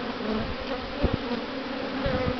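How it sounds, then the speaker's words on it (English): A steady, dense hum of many honey bees buzzing close by inside a hive, with a few brief bumps and taps against the continuous drone. "Bees and more bees."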